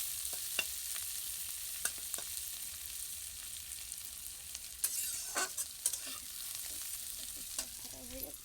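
Onions frying with masala in a pan, a low, continuous sizzle with scattered crackles and pops, fairly quiet and steady with no voices.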